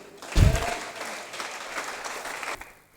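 A church congregation at a seminar bursts into applause to acclaim God, a loud clapping swell that starts sharply, holds steady for a couple of seconds, then fades out.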